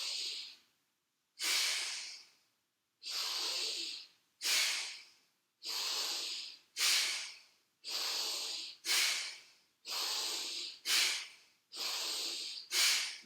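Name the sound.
bhastrika active breathing exercise, forceful breaths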